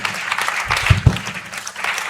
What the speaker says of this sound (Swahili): ongeza makofi kwa Yesu